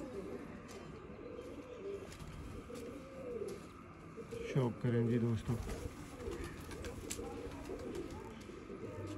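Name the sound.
pigeons cooing in boxes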